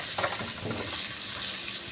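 Hot oil sizzles steadily as spices fry until reddened, with occasional stirring scrapes and clinks in the pan; no voices.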